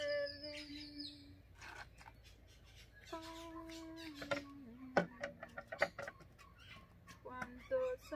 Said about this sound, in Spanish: Y oigan el perico,